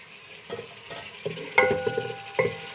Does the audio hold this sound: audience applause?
no